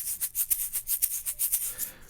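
The lightest of a set of egg shakers, filled with fine beads, shaken in a quick steady rhythm of soft, airy rattling pulses, close and alone.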